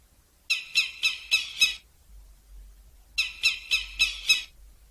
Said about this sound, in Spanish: gaviota